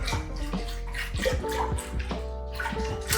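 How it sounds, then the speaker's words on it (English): Store-bought beef broth is poured from a carton into a cooking pot, giving a continuous close splashing and gurgling liquid sound for a few seconds with no talking. "the first thing we're gonna add in is our beef broth"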